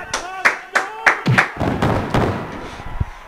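Hand claps near a commentator at an Underground Pro wrestling event, several sharp, evenly spaced claps followed by thuds and scuffing, close and fairly loud, with some voice-like tones mixed in.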